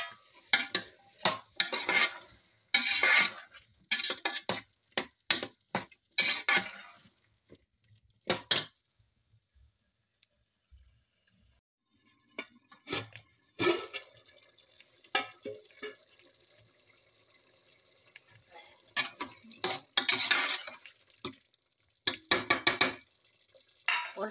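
Potatoes and carrots tumble into a curry pot of peas and are stirred, with repeated clattering bursts of utensil against metal, a quiet pause midway, then more scraping and knocking, fairly close.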